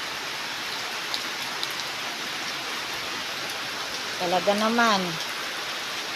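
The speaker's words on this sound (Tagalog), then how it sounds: "Maghapon talaga yung ulan guys." Steady rain hisses continuously all around, with a brief spoken phrase near the end over the downpour.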